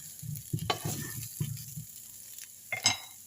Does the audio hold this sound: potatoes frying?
yes